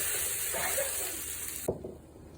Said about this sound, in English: Add the onions to the oil. Fry until they are golden brown.